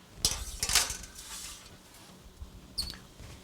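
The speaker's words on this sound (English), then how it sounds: "So now I'm going to put my cookies into my preheated 350-degree oven." A baking tray of gluten-free sugar cookies slid into a preheated 350-degree oven, with quick metallic clatters and scrapes early on and a lighter clink near the end, close up with no voices.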